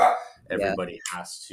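A dog barks a few sharp, close yips between bursts of someone talking on a remote call.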